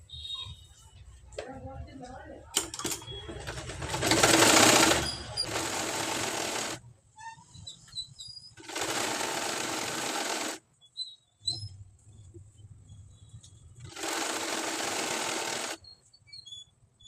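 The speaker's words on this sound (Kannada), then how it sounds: "ಲೈನಿಂಗ್ ಕ್ಲಾತು ಮತ್ತು ಮೇನ್ ಬಟ್ಟೆನ ಪೂರ್ತಿಯಾಗಿ ಒಂದು ಸರಿ ಹಿಂಗೆ ಸ್ಟಿಚ್ ಹಾಕೋರಿ" Sewing machine stitching lining and main fabric of a lehenga together, loud steady whirring bursts of a few seconds each separated by pauses, with someone talking between the runs.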